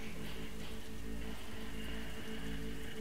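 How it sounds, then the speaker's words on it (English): Steady rain hisses and patters on surfaces in the video game The Walking Dead Season 2, an even, continuous downpour with no voices. "Oh, it's always raining, bro."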